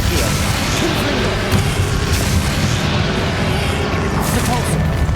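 Confringo, a fiery explosion spell in the video game Hogwarts Legacy, booms loud and dense amid a battle's continuous roaring blasts and rumbling impacts. It runs without pause over a heavy low-end wash.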